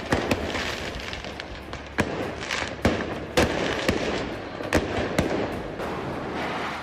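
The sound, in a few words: firecrackers bursting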